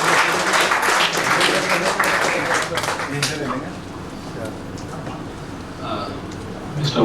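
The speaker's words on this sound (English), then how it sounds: "with a huge round of applause, because here is our Chief Secretary" Applause greets the Chief Secretary of Uttarakhand at a technology event, loud dense clapping for a few seconds that fades, with a faint voice in the background.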